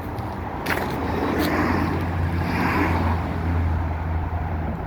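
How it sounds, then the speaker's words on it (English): Continuous outdoor road traffic noise, a steady low rumble with a car swelling past midway, heard without any talking. "excuse the sound of the traffic"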